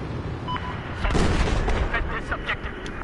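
Battlefield 4 gunfire erupts in a dense burst of heavy shots and booms over steady game noise, a few sharp reports standing out near the end, with a faint voice underneath.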